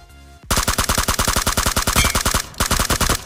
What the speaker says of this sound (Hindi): मेरे सामने की साइड एक बंदा मिनी चला रहा था और एक बंदा M4 चला था, तो ये बंदे आपस में दोनों लॉन्ग रेंज फाइट कर रहे थे